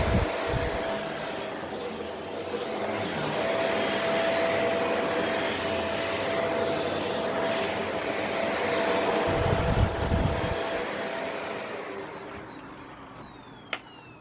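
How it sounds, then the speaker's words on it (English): A Shark Rotator Powered Lift-Away vacuum cleaner (NV75x/NV65x) runs in upright mode with a steady, moderate whir and airy hiss, a faint tonal whine, and a few low bumps and a brief click near the end. "So the vacuum actually isn't too loud"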